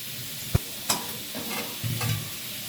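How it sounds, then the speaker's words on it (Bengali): Four bay leaves drop into hot oil left from frying potatoes, giving a couple of sharp close clicks and pops over a soft, steady sizzle. "এবার ওই তেলেই দিয়ে দিলাম চারটে তেজপাতা"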